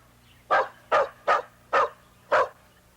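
A dog barks five times in a slow, evenly spaced sequence, each bark short and sharp, close and clear against a low steady hum, answering an arithmetic question put to it.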